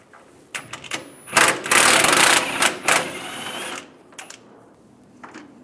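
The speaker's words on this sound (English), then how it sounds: "Using a 15mm socket, take this bolt out." A 15mm socket wrench works a bolt loose on a 2007-2013 Chevrolet Silverado 1500 center bumper, giving bursts of close ratcheting clicks and metallic rattles, with quieter gaps between them.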